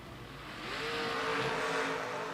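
A drag race car launches hard off the line with its front wheels lifted, a loud sustained engine roar that builds and holds across the run at a roadster racing event.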